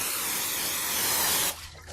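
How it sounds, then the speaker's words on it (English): Pam cooking spray hisses out of the can into a 9x9 baking dish in one steady, close, loud burst lasting about a second and a half, then cuts off abruptly. "get a 9x9 baking dish and simply prepare it just by spraying it with a little bit of"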